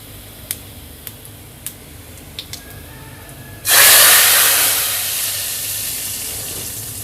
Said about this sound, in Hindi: तो जैसे ही लहसुन का कलर हल्का ब्राउन हो जाए तो उसको हम लगा देंगे अब तड़का।